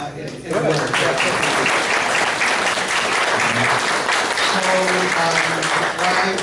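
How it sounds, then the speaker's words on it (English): Loud, sustained applause from a crowd fills the room, with voices talking faintly underneath throughout. "Why were you clapping?"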